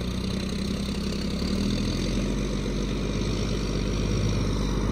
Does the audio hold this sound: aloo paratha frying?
no